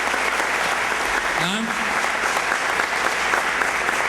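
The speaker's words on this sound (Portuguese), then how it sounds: "Dê outra salva de palmas ao Senhor" Sustained applause from a church congregation during a worship service, steady and dense throughout with a voice speaking briefly over it.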